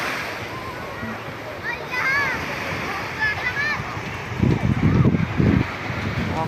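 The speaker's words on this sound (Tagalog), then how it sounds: "Laki ng alon." Ocean surf rolls in at Bolinao beach as a steady wash, then a louder wave crashes and splashes near the end, with voices and faint chatter mixed in.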